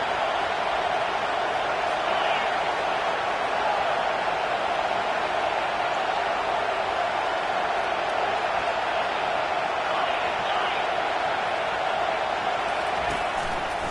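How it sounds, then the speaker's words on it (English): Steady roar of a stadium crowd in the College Football 25 video game, a continuous loud wash of voices holding level throughout, swelling for a third-down defensive stand with no talk over it. "Decibels rising as the crowd gets behind this defense on third down."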